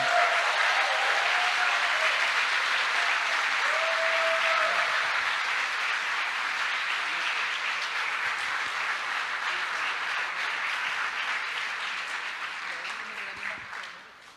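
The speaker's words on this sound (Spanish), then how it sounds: "le voy a pedir que por favor le dé un fuerte aplauso" A congregation at a church general meeting gives the pastor a long, loud round of applause, dense and steady before slowly thinning out and fading toward the end.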